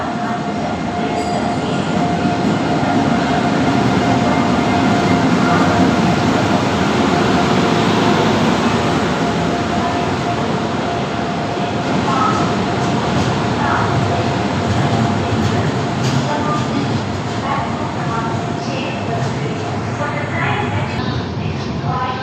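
An express train bound from Chandigarh to Kochuveli roars past near Shoranur, a loud, sustained rush of wheels and carriages with metallic screeching and rattling that holds steady for the whole stretch.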